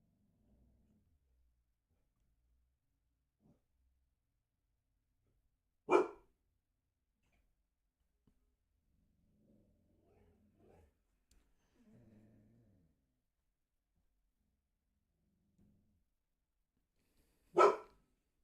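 Dogs bark indoors in two sharp, isolated bursts far apart, each a single loud bark against near silence with faint distant rustling between.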